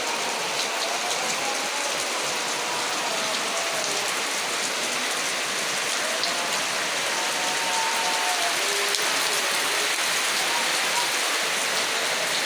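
Heavy rain pours down in a dense, steady hiss, close and loud, with faint clicks and rattles mixed in, continuing unbroken without talk.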